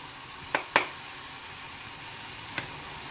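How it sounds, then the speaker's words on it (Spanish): Onion frying in a pan for a Chilean charquicán gives a soft, steady sizzle with a few sharp crackles and pops, quiet and close. "La cebolla se fríe bien."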